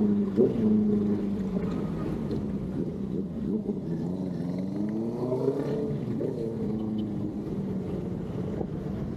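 A big bike motorcycle engine hums steadily while riding through road traffic, its drone rising and falling, with wind buffeting throughout.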